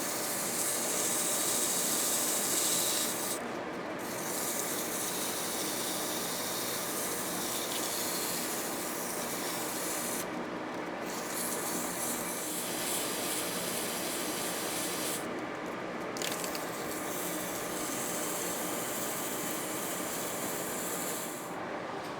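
Hand sanding a metal bike frame with 120 grit sandpaper, a steady faint scratchy rasp that continues for a long stretch with a few brief breaks in the strokes.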